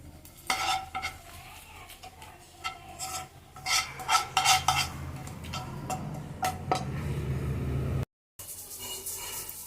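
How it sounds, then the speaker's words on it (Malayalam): Roasted coconut being stirred into cooked erissery in a pot, with repeated scraping and rubbing strokes of a spoon against the vessel, close and moderately loud, ending in a brief pause. "ഈ സമയത്ത് നമുക്ക് എരിശ്ശേരിയിലേക്ക് വേവിച്ച് വെച്ചിരിക്കുന്നതിലേക്ക് ചേർത്ത് നന്നായിട്ട് മിക്സ് ചെയ്തെടുക്കാം"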